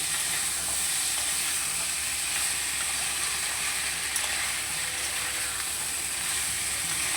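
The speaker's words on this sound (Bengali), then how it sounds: "দিয়ে একসাথে ভালো করে মিশিয়ে নেব" Fried shrimp and spices sizzle in a pan while being mixed, a dense, even hiss that continues the whole time, fairly loud and close with no voices.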